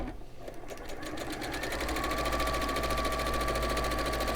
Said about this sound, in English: just sewing using our 1/4 inch